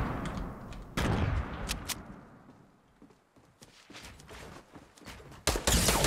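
Grenades thrown and bursting in Fortnite, several loud explosive blasts with sharp onsets and decaying rumble, some close together, amid scattered gunfire and footsteps.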